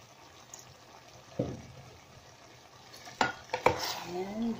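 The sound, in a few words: sautéing and stirring cabbage for sotanghon guisado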